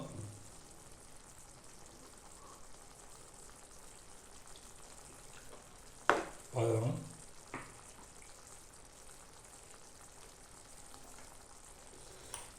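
Egg masala gravy simmering in a pan gives a faint, steady bubbling hiss throughout, broken midway by a few brief clatters and a single short spoken word.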